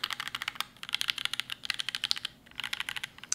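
Steady typing on the alpha keys of a stock, unmodified mechanical keyboard, a quick run of crisp clacks heard up close with one brief pause, no talking.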